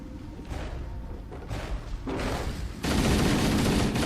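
Assault rifle fire in Halo: Combat Evolved comes in sustained, rapid bursts of shots that grow louder and denser toward the end, with no talk over them.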